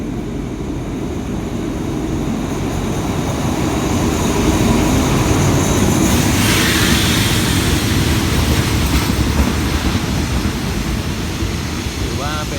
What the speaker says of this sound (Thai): กำลังจะเข้าจอดรับส่งผู้โดยสารที่สถานีรถไฟบ้านโป่ง